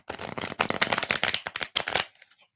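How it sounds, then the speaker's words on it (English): A deck of tarot cards is shuffled up close, a dense run of crisp riffling and flicking that ends with a few soft taps as the cards settle. "I'm going to shuffle the deck and get a card to 3 people."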